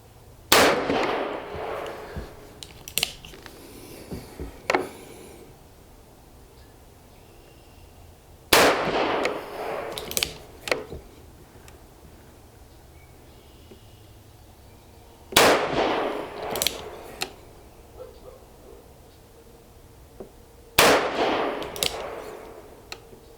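A Henry Big Boy revolver firing .38 Special rounds at an outdoor range, with sharp, loud single shots spaced several seconds apart, each followed by a brief ringing echo and fainter clinks between shots.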